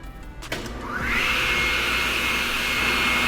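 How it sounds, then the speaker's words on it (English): A Diehl 75 straight line rip saw with a 15 horsepower three-phase motor powers up, a click followed by a rising whine that settles into a loud, steady high-pitched hum. "We're going to go ahead and power up the machine real fast."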